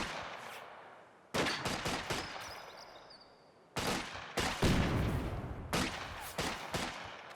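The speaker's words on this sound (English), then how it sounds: "so you fire off 1 rifle grenade, then it goes on cooldown" Rifle grenade fired in a World War II strategy video game: sudden loud blasts and rattling bursts of gunfire in two heavy waves separated by a brief lull, with lingering rumble between, no talk.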